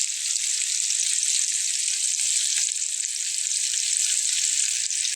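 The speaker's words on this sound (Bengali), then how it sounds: "আলু এবং বেগুনগুলো লাল লাল করে আমার ভেজে নেওয়া হয়ে গেছে" Potatoes and eggplant fry in hot oil with a dense, continuous hiss. The sizzle stays loud and even from start to finish.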